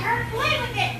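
Children's voices chatter continuously in the background, fairly steady and moderately loud, with no adult talking in the foreground.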